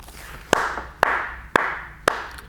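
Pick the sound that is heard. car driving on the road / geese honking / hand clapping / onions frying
hand clapping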